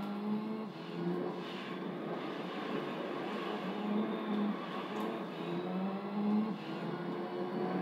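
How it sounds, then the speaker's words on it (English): A Mitsubishi Lancer Evo 7 race car in Gran Turismo 3 rally events on the Tahiti Maze course, its engine revving continuously with rising and falling pitch as it shifts gears, steady and moderately loud. "Evo 7 is coming, the Dark Evo 7."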